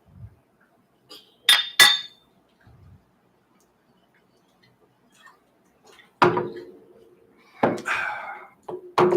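Glasses clink in a toast at a live event, with scattered sharp bright clinks and taps, a couple of quick close strikes early and more clinking bursts later amid quiet pauses.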